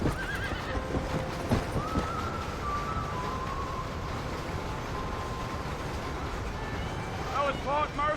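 A horse in the Red Dead Redemption video game neighs and whinnies over a dense rumble of clip-clopping hooves, with a voice talking over part of it.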